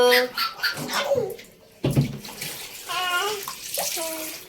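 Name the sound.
child being bathed, splashing water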